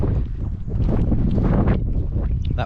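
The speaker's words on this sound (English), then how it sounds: "That wind's really got up again." Strong gusting wind across an exposed, open marshland on the Norfolk Broads in December, roaring steadily and buffeting the microphone in a loud, continuous rush.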